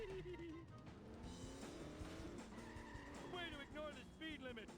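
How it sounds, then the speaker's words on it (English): Boat car driving in a racing video game, a continuous revving engine drone with tire squeal and skidding, under commentators' talk. "Looks like Being was using the boat car"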